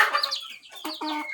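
A six-month-old desi rooster clucks in a short run of bright, tonal calls, moderately close and fairly quiet, with no talk over it.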